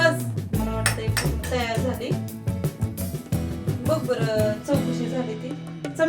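Metal spoon stirring instant noodles in a home cooking pot, with repeated clinks and scrapes against the pot under continuous nearby children's voices and talk.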